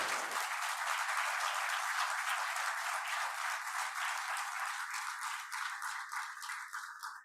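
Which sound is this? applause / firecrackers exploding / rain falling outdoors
applause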